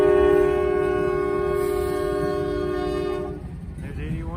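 A Pennsylvania Railroad locomotive sounds a long, loud multi-tone horn for about three seconds as it passes close by, then the horn cuts off and the rumble of the train rolling past carries on.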